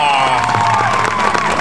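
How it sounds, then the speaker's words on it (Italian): An audience claps and cheers at a cultural gathering, with dense, continuous applause and overlapping voices sustained at a loud, close level. "dovete applaudire Patrizia"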